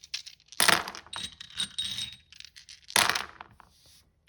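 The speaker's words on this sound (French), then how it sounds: "Alors on va continuer avec les dés maintenant astro." Astrology dice are thrown in two separate bursts, each a sharp clattering tumble of small hard objects that rattles and settles, with a quiet pause between the throws.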